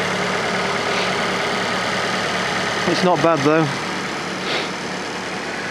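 A Fiat Panda 4x4 Sisley's fuel-injected engine, a little mucky after a recent oil change, idles with a steady, even hum throughout while someone briefly speaks over it.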